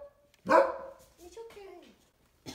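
A dog barks once loudly, followed by a softer whining yip and another bark starting at the end, close by indoors.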